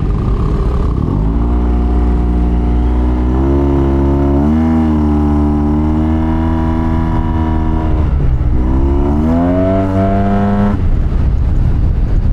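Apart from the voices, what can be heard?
Yamaha TMAX 560 scooter exhaust revving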